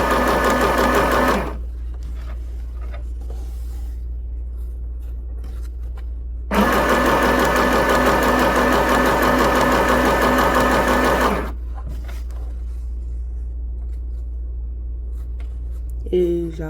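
A sewing machine stitches a straight seam in fabric, running in two loud bursts of about five seconds each, with a quieter pause between them and a steady low hum underneath throughout.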